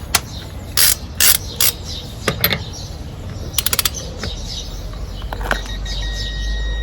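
A torque wrench set to 130 Nm checks a nut's tightness: quick bursts of sharp ratchet clicking, then scattered single clicks and a short rattling run, close and crisp against a quiet background.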